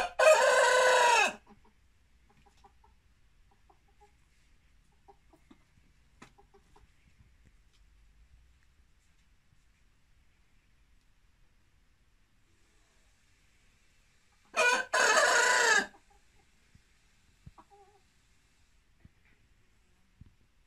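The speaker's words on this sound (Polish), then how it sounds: "Ale ten kogut dzień w dzień daje czadu z pianiem." A rooster crows on a Polish country farm during summer, two loud, clear crowing calls about fourteen seconds apart, with near silence between them.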